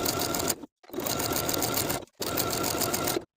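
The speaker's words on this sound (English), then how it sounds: "Then we can sew the binding in place with a 3/8 inch seam allowance and your preferred stretch stitch." Sewing machine stitching neckline binding on a racerback tank top with a stretch stitch, running in three steady bursts separated by brief pauses, close and continuous with no talking.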